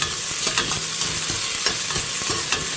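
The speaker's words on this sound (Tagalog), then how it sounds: "Ginigisa." Onion and ginger sautéing in a pan for chicken tinola, a loud, dense sizzle with a continuous hiss and repeated scraping stirs close by, no one talking.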